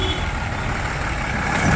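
A truck rumbles over a road full of deep potholes left by pipeline digging and worsened by rain, producing a continuous heavy low roar with a rough, jolting texture.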